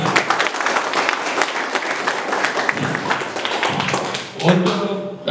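Applause at a vocational school certification ceremony: a dense, steady round of clapping from a seated group that holds for several seconds, with a few louder close claps and a brief murmur near the end.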